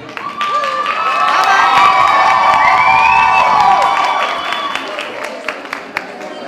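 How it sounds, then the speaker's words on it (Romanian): A loud audience at a traditional Moldavian folk gathering bursts into sustained applause mixed with cheering, whoops and shouted voices, then tapers into scattered claps near the end. "Aplauze!"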